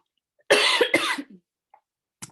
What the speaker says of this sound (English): Sorry, I had to cough there.